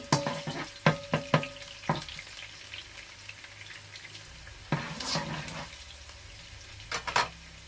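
Garlic sizzles in oil in a deep frying pan, a steady close crackle. A spatula scrapes and clicks against the pan in several quick bursts.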